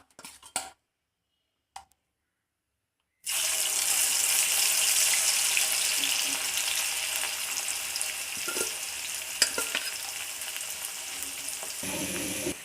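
Okra frying in a pan for a crisp fry: a loud, steady broadband sizzle starts abruptly after a few seconds of near silence, with faint clinks, and carries on to the end.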